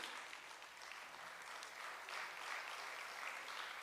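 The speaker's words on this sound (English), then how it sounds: "So can we have another round of applause for him?" Steady applause from an audience at a conference session, a continuous wash of clapping held at an even level from start to finish.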